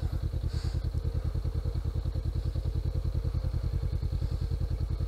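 A motorcycle idles and creeps forward without throttle, its engine thumping in a fast, even low pulse close by, with a light clatter on top and no voices.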